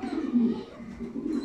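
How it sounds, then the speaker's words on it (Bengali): Pigeons in an indoor breeding room give soft, low, throaty coos that overlap in a steady murmur, close by and fairly quiet, with no talking. "আমি আপনাদের ব্রিডিং রুমের কবুতরগুলো দেখাবো"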